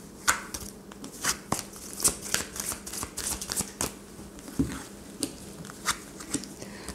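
A deck of tarot cards is shuffled by hand in a quiet room, giving repeated crisp riffling flutters and soft slaps in an uneven rhythm, close and alone with no talk.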